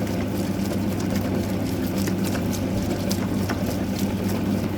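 A bread dough kneading machine hums and drones steadily at close range, a continuous low mechanical churning with faint rhythmic knocks and no voices.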